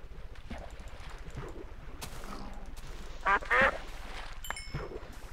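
Short quacks from a duck in the Minecraft survival game, two quick bursts close together midway through, standing out over a steady low game background.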